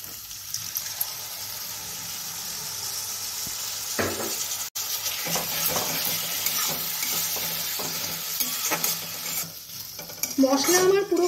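Muri ghonto being stirred in a pan, a steady close sizzle with repeated scraping strokes of the spoon and a splash of water near the end.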